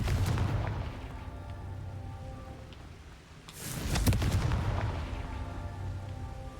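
The Confringo fire-blast spell in Hogwarts Legacy sets off heavy, booming explosions, with a rumbling blast at the start and a second loud burst near the middle that trails into crackling rumble.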